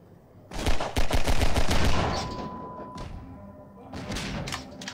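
Rapid bursts of weapon fire in Half-Life 2, a loud close volley of repeated shots for about a second and a half, then a shorter second burst after a pause, with a lingering tone between.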